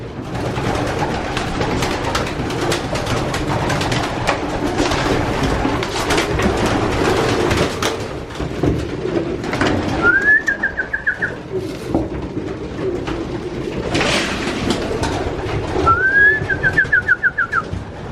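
Pigeons in a loft housing young birds, breeders and cocks make a continuous low murmur of cooing and rustling, broken twice by a clear rising whistle partway through, close and fairly loud.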